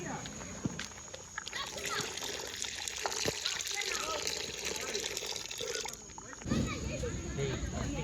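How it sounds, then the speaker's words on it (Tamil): Tender coconut water pouring into a village-style coconut payasam with sugar and coconut, a steady liquid trickle and splash running through most of the clip, with someone talking in the background. "இளநீர் தண்ணியை ஊற்றிக்கிறோம்."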